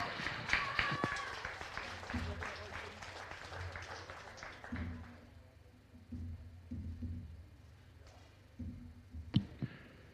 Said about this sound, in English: let's give her a big round of applause as she makes her way out the ring